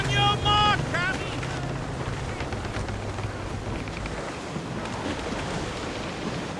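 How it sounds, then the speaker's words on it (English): Wind rushes at sea around a sailing ship in Assassin's Creed Rogue, a steady loud blustery roar with water wash and creaking, while voices shout over it. "Wind's getting vicious."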